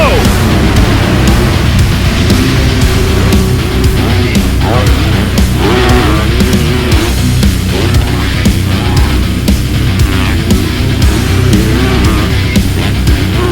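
250-class motocross bikes racing, a loud, dense blur of revving two-stroke and four-stroke engines rising and falling together, with a voice talking over the roar.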